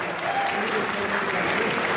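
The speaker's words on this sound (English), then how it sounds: "Let's have a round of applause for our Iron Bartender Rev. John Ring, ladies and gentlemen" Audience applause for the winning bartender at an Iron Bartender cocktail competition at a convention, a brief, dense burst of clapping from a crowd with some voices mixed in, steady throughout.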